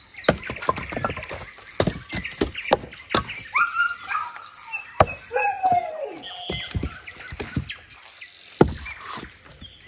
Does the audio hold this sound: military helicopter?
no